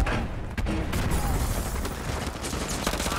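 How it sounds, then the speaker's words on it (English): Dense, continuous automatic gunfire from two Uzis fired together in Call of Duty: Modern Warfare 2 Remastered, a loud sustained rattle of overlapping shots with no pauses. "Wait, was that dual-wielding Uzis?"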